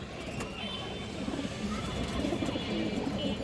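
Chila pigeons kept for sale, soft low cooing repeating near at hand over a steady background hum, with some faint talking mixed in.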